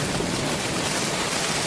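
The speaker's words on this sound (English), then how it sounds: "so it's literally flooding up our driveway now." Floodwater rushing up a driveway during a storm with hail, a steady dense roar of water mixed with heavy wind buffeting the microphone, loud and continuous with no talking.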